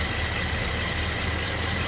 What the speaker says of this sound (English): the engine runs smooth and the engine speed doesn't seem to really increase any